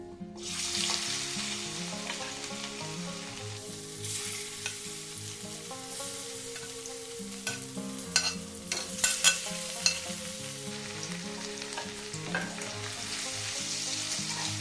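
Paneer pieces fry lightly in oil with salt and turmeric, a steady close sizzle with occasional clatter of stirring against the pan, over soft background music.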